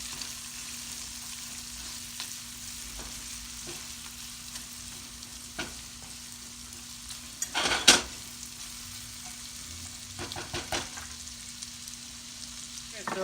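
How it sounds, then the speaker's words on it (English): Shallots frying and softening in a pan, a steady faint sizzle with a few stirring scrapes and one louder clatter near the middle, under a constant low hum. "the first thing that's going in is the shallots. Just gonna let that soften a bit."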